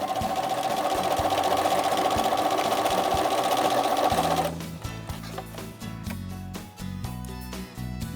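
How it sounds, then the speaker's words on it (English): Sewing machine stitching a fabric hem, a loud steady motor whir for about four seconds, then shorter bursts of stitching with brief pauses, close up. "I'm going to sew down the entire length of my hem"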